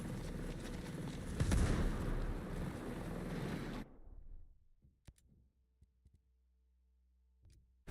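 Heavy, booming explosions of mortar fire in a video game fill the first four seconds as a dense, loud roar, then give way to near silence broken by a few sharp, isolated impacts.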